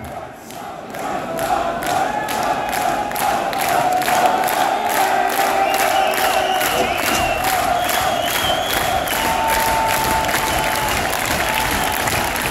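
Metal concert crowd at a show in the Zenith de Paris cheering, whooping and clapping loudly and steadily, a dense roar of many voices filling the hall without pause.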